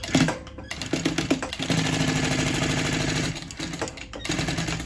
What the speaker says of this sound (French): Pour que le tissu reste en place, nous allons coudre à 3 mm du bord sur les 2 côtés.